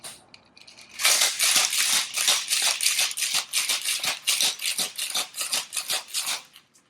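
Cocktail shaker with its lid on, shaken hard in a kitchen: a dense run of rapid rattling, sloshing strokes sets in after a brief pause and carries on steadily for several seconds, loud and close, with no talking.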